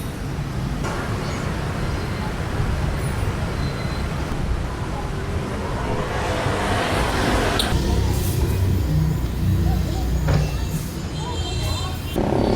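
Busy street traffic in Vietnam at rush hour, with cars and buses rumbling past in a dense, continuous wash of engine noise and hiss, fairly near and steady throughout.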